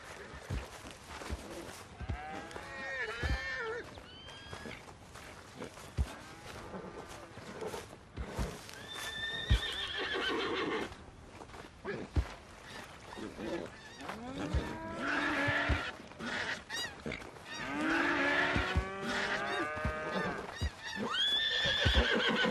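Horses in Red Dead Redemption 2 whinny and neigh several times over a long stretch, with farm-animal sounds and some hoof clip-clop mixed in; the calls rise and fall, some close and loud.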